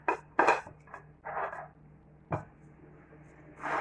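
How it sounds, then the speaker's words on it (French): Spoon clinking and scraping in a bowl while ingredients with butter are mixed into a paste for a roast lamb shoulder, with several separate scrapes and knocks spread through a quiet kitchen. "on va mélanger ces ingrédients ensemble"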